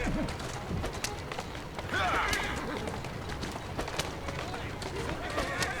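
A horse gallops with quick hoofbeats through the streets of Victorian London in Assassin's Creed Syndicate, a steady running patter under game ambience, with a voice talking over it.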